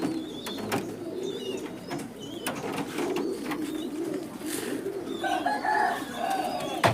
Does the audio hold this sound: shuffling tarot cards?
no